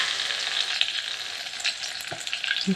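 Cumin, mustard seeds and garlic sizzle in hot oil for a lentil amti, a steady bright crackling fry with a few sharper pops and faint stirring.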